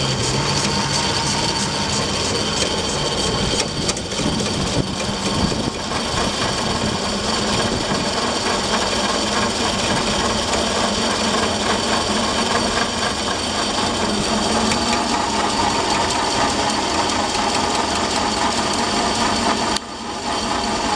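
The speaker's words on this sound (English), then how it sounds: "the engine's running." A Reliant Fox converted to steam power idles with its steam engine running, giving a steady, dense mechanical chatter and hiss that holds evenly and close throughout, with no talking.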